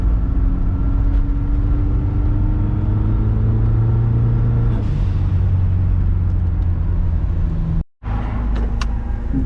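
A car drives away from a workplace with a steady, loud interior engine and road rumble heard from inside the cabin. The drone is continuous, broken by one brief dropout near the end.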